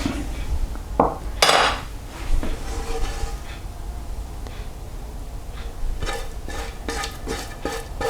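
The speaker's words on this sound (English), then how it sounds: "use a spatula, make sure you get every single bit of this mixture out" A spatula scrapes a bacon butter mixture out of a bowl in repeated scrapes and knocks, some loud and sharp, close up over a low steady hum, with no talking.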